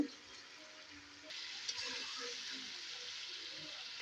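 Boiled potato and elephant foot yam with a pinch of sugar frying in hot oil, giving a steady hissing sizzle that grows noticeably louder partway through and then holds even.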